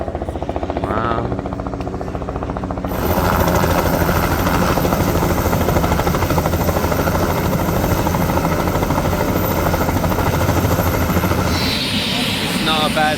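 A helicopter's loud, steady rotor chop and engine roar over Sugarloaf Mountain in Rio de Janeiro dominate throughout, growing stronger after a few seconds, with a voice speaking faintly underneath.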